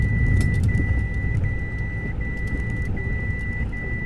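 A car engine labours up a steep climb of about 70 degrees on a rough mountain track, a steady low rumble throughout, with a repeating high beep over it and scattered rattles and knocks.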